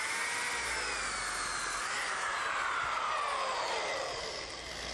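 A steady, high whining hiss of a running belt sander with a sanding belt cleaner pressed against the belt, abrasive scraping continuous and fairly loud throughout, easing slightly at the end.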